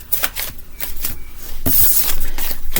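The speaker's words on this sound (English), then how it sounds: "Shuffle these cards out first before I begin." Tarot cards are shuffled by hand in quick bursts of riffling and flapping, close and crisp, with no talking, growing denser and louder toward the end.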